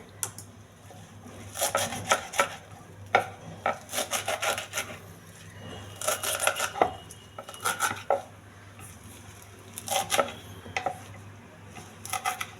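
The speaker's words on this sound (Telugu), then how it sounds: "పుదీనా చిన్నగా కట్ చేసుకోవాలండి" A knife finely chops mint leaves on a board, making quick bursts of rapid tapping strokes separated by short pauses, close and clear.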